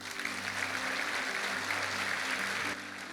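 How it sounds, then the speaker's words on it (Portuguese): A congregation applauding at a Pentecost church service, steady sustained clapping from a crowd for about three seconds that drops slightly in level near the end. "Dê um aplauso a ele."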